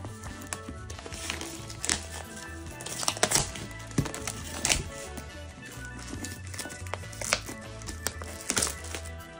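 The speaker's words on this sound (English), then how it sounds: "I always like to unwrap new devices." Packaging on a new ASUS ROG Ally handheld gaming device is unwrapped and handled, with irregular close crinkles, taps and plastic clicks scattered through the clip.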